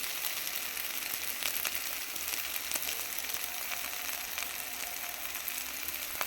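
Onions and green chillies sautéing in a pan give off a steady, dense sizzle with faint scraping and crackle throughout, close and even, with no voices.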